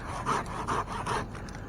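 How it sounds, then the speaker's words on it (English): A handsaw cuts the stub off an oak limb in four quick, rhythmic rasping strokes, close and fairly loud. "I can just handsaw this and then make my final cut with the chainsaw"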